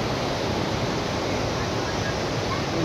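Waterfall in Pahalgam, a steady dense roar of rushing water filling the air, constant and close with no break.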